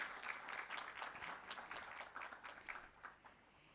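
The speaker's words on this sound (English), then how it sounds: "Let's give a huge round of applause to him and let's welcome him." A panel session audience at a film festival applauds to welcome a speaker, steady mid-distance clapping that holds for several seconds and tapers slightly at the end.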